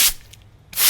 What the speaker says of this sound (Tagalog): So, spray na natin.